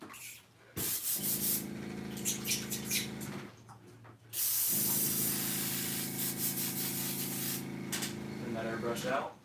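Airbrush spraying paint onto jointed wake rat fishing crankbaits, a close steady hiss in two bursts separated by a short pause, with faint handling noises in between.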